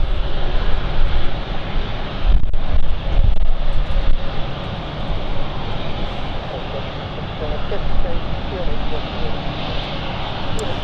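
A fixed-wing aircraft engine rumbles steadily at London City Airport as a Lux Aviation Belgium flight from Brussels approaches on final, a broad continuous roar with slight swells, a voice talking over it.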